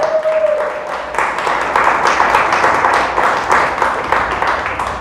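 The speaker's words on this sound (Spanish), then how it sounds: "Dele fuerte el aplauso a Dios, pero déselo fuerte, iglesia." A church congregation applauds steadily throughout, a dense wash of clapping filling the room with no break.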